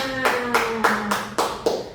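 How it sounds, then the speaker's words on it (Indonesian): A group in a classroom claps hands together in a steady rhythm of about six sharp, loud bursts evenly spaced, with a voice faintly audible underneath at the start. "Tepuk tangan untuk kita semua."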